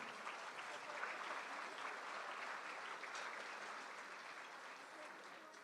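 Faint, distant clapping rises from guests at a mayor's business luncheon honoring Mr. Darrell Smith, a soft, steady patter that slowly thins toward the end.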